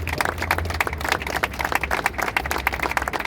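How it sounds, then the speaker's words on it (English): An audience claps steadily for the 500 Men organization at an outdoor Father's Day walk in New York City, a dense crowd applause sustained throughout without talk over it. "Clap it up for them."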